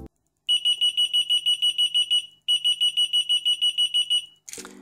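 Rapid, loud electronic beeping from a key finder's speaker in two bursts of pulses, high-pitched and piercing, followed by a short scrape or rustle at the end.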